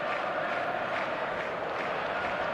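A stadium crowd in the eFootball 2026 video game roars in a dense, continuous wash of noise as two sides prepare to kick off, with no voices standing out.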